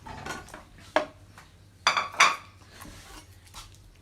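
Utensil clinks and scrapes against a bowl as mayonnaise and tomato sauce are stirred together, a few sharp taps standing out over quiet background noise, with no talking.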